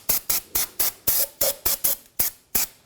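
Brake cleaner sprayed in rapid repeated bursts while cleaning a rear ABS wheel sensor area on a 2011-2015 Chevrolet Cruze, about ten loud, close hissing blasts in a steady rhythm.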